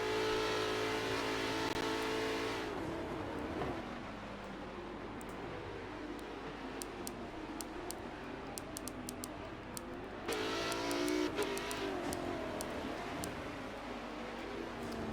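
A McLaren GT3 race car engine in a racing video game, a loud revving, droning engine tone that rises and shifts through gears, with other cars audible, continuous throughout and without voices.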